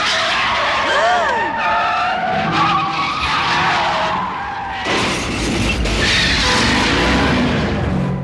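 Car tires skid and screech in the video game 8-Man After, with a rising squeal and engine noise, a brief lull near the middle, then louder skidding that continues steadily to the end.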